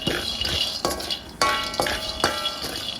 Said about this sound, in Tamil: ஸோ முதல்ல நான் வேர்க்கடலையை வறுக்கணும்